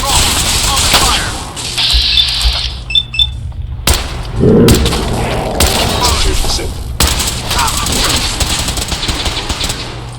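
A firefight in Fallout 4, with bursts of gunfire, sharp shots and thuds breaking through a layer of game ambience. Voices are heard between the volleys.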